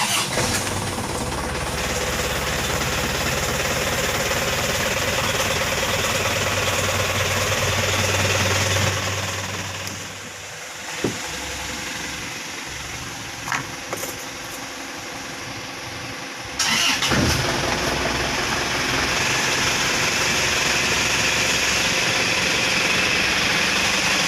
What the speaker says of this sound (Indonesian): panasin dulu mesinnya, rencana nanti buat trip ke Jakarta nanti siang